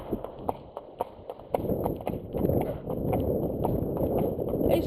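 Horse hooves clip-clopping in a steady walking rhythm on a fast road, close and clear at first, then partly masked by rising traffic or wind rumble.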